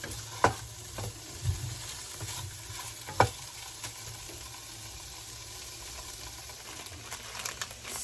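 Food frying in a pan gives a soft, steady sizzle close by, with a few scrape-and-clack knocks of stirring spread across the stretch, no talk.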